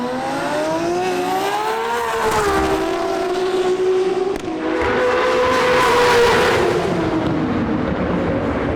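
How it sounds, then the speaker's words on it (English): A 1200 hp Nissan R32 GT-R runs at full power with a misfire, its engine note howling loud and sustained, rising and dipping with uneven stutters as it accelerates hard, heard close from the car. "So I put it back to full power and expected to see the misfire return"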